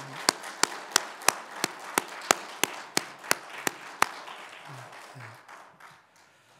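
A standing church congregation gives a short burst of applause: about a dozen sharp, evenly spaced claps ring out loudly, then fade into quiet room noise while a voice briefly speaks.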